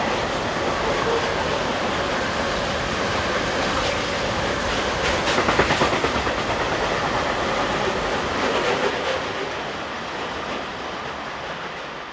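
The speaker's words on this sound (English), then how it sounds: "Another going away shot sees 185209 heading a tank train from Hamburg to" German electric locomotive 185209 hauls a tank train from Hamburg away on the busy Fulda–Bad Hersfeld mainline, a steady loud rumble of wagons with rhythmic wheel clatter slowly receding.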